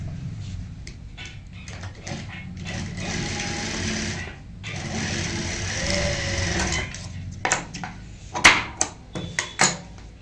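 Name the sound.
sewing machine stitching a neckline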